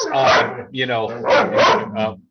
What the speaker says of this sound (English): as you can see, or hear my neglected dog back here